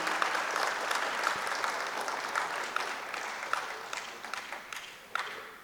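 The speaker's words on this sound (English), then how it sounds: "can we give our teachers a very, very big round of applause, please?" Audience applause for teachers at a 25th anniversary alumni meet, a dense sustained wash of many clapping hands that fills the room steadily, with scattered louder claps standing out near the end.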